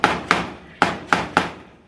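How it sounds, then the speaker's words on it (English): Hammer pounding staples into the wire of a rabbit hutch, five sharp close blows in an uneven rhythm, each ringing briefly with a metallic ping, with no talking. "The reason why he's pounding that in with a hammer is not aiming at the staple."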